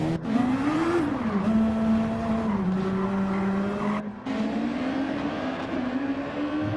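In Gran Turismo 7, a race car accelerates out of the pit lane after a tyre change, its loud engine whine rising and falling through the gears, with a brief cut in the sound partway through.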